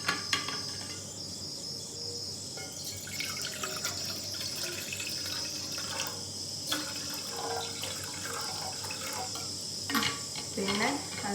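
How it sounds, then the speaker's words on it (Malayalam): Water pours into a thick pot to make a jaggery syrup, a steady trickling splash with light metallic knocks and crickets chirping in the background. "ഇതിൽ നമുക്ക് ആവശ്യത്തിന് വെള്ളം ഒഴിച്ചു കൊടുക്കാം."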